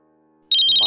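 After a short stretch of quiet, a phone ringtone suddenly starts, loud and close, as a bright repeating electronic melody.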